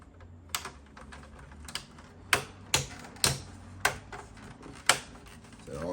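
Plastic parts of a PS5 console casing snapping together by hand after a fan cleaning, a series of sharp, close clicks and snaps at irregular intervals with faint handling noise between them.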